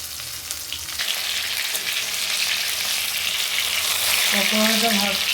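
Pakoras made with gram flour, maida, cornflour, egg and ginger-garlic paste fry in white oil, giving a steady close sizzle with a brief voice near the end.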